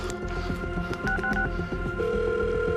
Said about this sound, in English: Demetrius runs back inside and grabs his phone.